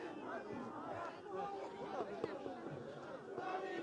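A crowd of government employees gathers for a rally in a parking area, giving off a continuous murmur of many voices with scattered louder calls nearby.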